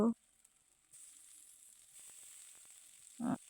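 Tomato dropped into a pan of hot oil with onion and garlic, cooking a sea fish curry; a bright, steady sizzle runs quietly, and brief bits of a woman's speech sit at the start and the end.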